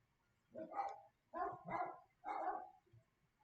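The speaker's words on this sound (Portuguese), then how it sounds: "os cachorros estão latindo muito" Dogs barking at a distance, four or so muffled barks in an uneven run, faint and alone with no talk.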